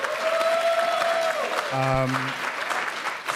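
An audience at an animation panel breaks into sustained applause, dense clapping filling the room at close range, with a brief tonal blip partway through.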